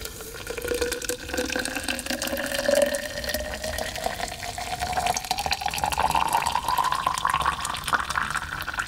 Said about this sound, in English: We're going to take some ground coffee, and we're going to add our water.